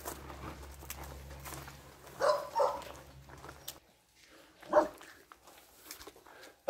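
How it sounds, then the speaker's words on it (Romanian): Large dogs bark a few times at close range in a yard on an island property near a forest cabin, short loud bursts over a low steady hum, followed by quieter gaps and a single sharp yelp near the end. "printre sunetele unui cățel, iată ce avem noi aici"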